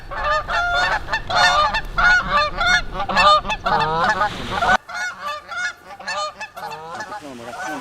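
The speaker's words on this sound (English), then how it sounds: "a massive group of geese locked onto the water and dropped straight into the decoys" Loud, overlapping honking from a large flock of geese landing on water among decoys, dense and continuous, close by and clamorous throughout.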